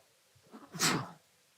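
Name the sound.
sneeze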